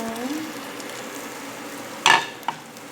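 Chicken liver and gizzard adobo sautéing in a pan gives a soft, steady sizzle, broken by a sharp clatter of a utensil against the pan and one brief clink afterward.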